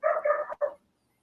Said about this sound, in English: do you guys hear the Foster dog?